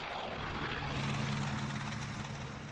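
Steady, loud drone of an early propeller-driven airplane engine, a continuous buzzing roar with a low throbbing hum, heard alone without talk.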